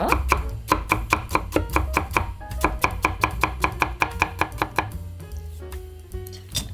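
Vegetables being cut on a julienne slicer make a rapid, even series of sharp close chopping clicks, about three per second, that slow into a few sparser strokes near the end, loud and alone.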